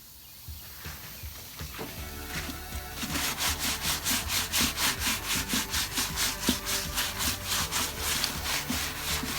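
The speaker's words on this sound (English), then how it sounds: "We're going to give these gunk degreasing wipes a shot." A car wheel is wiped with gritty degreasing wipes near where it meets the rotor. A few scattered rubs give way to a fast, steady run of loud rasping strokes, close up, with no talking.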